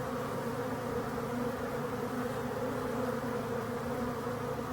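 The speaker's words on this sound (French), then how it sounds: "regardez ça, revoilà un frelon arrivé" Asian hornets buzzing around a beehive alongside honeybees, a steady dense insect drone with continuous wingbeat hum, fairly close and constant throughout with no talking.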